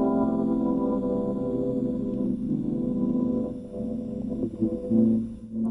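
An analog tape loop of a short music phrase, made by splicing tape into a circle and varying the machine's speed, plays alone as a dense, sustained, warbling harmonic texture that keeps repeating.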